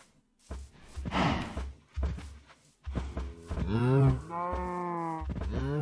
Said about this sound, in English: Damn, there's one lonely cow.